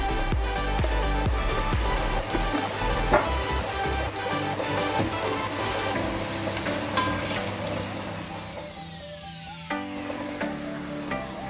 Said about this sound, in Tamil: கொஞ்சமாக உப்பு ஆட் பண்ணி நம்ம இந்த வெங்காயத்தை சீக்கிரம் வதங்க வச்சிடலாம்